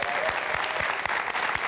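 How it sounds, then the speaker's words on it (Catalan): Studio audience applause at a late-night comedy talk show, a dense, steady wash of clapping that holds at full strength throughout without any talk over it. "Un altre aplaudiment per ella."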